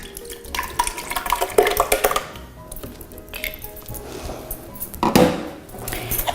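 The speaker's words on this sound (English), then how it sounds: "I'm gonna put this in my blender." Fresh peaches, sugar and water tumble into a blender jar in a home kitchen: a run of wet splashes, knocks and clatters, loudest in bursts near the start and again toward the end, with no talking.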